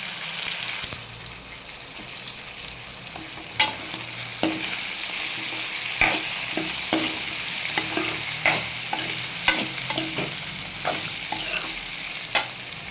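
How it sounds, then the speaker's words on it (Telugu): Ivy gourd, green chillies, tomato and peanuts fry in a pan with a steady sizzle, broken by periodic sharp scrapes and knocks as they are stirred, close and alone. "దొండకాయ పచ్చిమిర్చి టమాటా అయితే వేగాయండి. పల్లీలు కూడా మంచిగా అన్నీ వేగాయి."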